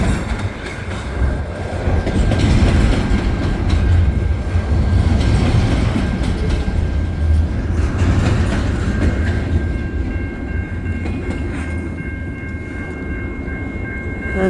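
CN double-stack container train and mixed freight train meeting in winter at St Henri, loud and close, with continuous rumble and clickety-clack of wheels passing steadily throughout.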